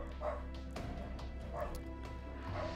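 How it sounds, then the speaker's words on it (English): Dogs bark and yip in the distance, set off by fireworks still being lit nearby. Three short bursts come about a second apart, soft and far off over a steady low hum. "And the dogs are going crazy because they're still lighting fireworks off over there."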